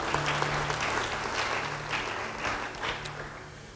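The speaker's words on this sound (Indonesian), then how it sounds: "Yang percaya beri tepuk tangan bagi dia." Applause from a church congregation during a sermon, a dense continuous wash of clapping hands lasting a few seconds with no voices over it.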